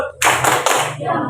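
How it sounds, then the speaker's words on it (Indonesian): A classroom of students gives a salute clap for a classmate, a single sharp burst of hands striking together that rings close and loud for about a second. "Tepuk salut untuk Bumi."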